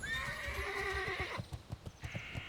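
A horse in World of Warcraft gives a loud, clear whinny followed by a run of rhythmic hoof clops, with no voices over it.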